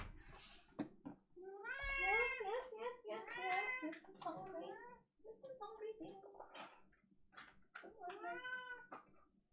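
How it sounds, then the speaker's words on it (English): A cat meows repeatedly and insistently while being fed indoors, long drawn-out cries in several bursts with short pauses, close and fairly quiet, with no talk. "I'm just gonna feed the cat"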